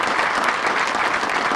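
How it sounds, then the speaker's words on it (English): An audience at a PGA section spring meeting gives golf professionals a brief round of applause, a dense, even burst of clapping filling the room. "How about a round of applause for these fine gentlemen?"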